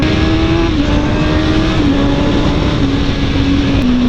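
Motorcycle engine pulling hard on a freeway during clutchless upshifting, a loud, steady close-up roar with wind noise and pitch stepping down slightly at each shift.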